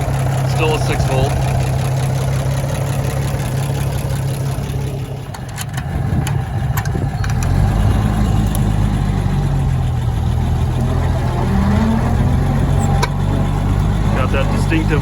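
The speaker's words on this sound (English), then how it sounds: "Got that distinctive Oliver whine" An old 6-volt Oliver antique tractor engine idles steadily with a persistent whine, loud and close throughout, its pitch shifting slightly midway as the engine note dips and recovers.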